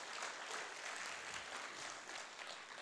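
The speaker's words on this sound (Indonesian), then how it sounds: "Satu tepukan untuk anda semua." Faint, steady applause from an audience at a company introduction session, an even wash of clapping with no voices over it.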